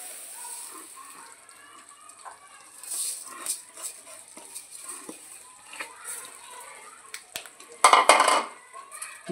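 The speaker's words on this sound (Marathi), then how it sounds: "आता आपण तीळ टाकत आहोत याच्यामध्ये।" Sesame seeds tossed into hardened sugar syrup for chikki and stirred, with scattered clinks and scrapes of a spoon on the pan, then a louder burst of rattling stirring near the end, close and moderately loud.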